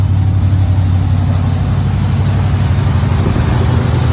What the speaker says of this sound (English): As you guys can hear, I got it running.